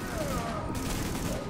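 Heavy gunfire from the video game Tom Clancy's The Division, a dense, continuous barrage of overlapping shots that stays loud and unbroken for the whole stretch.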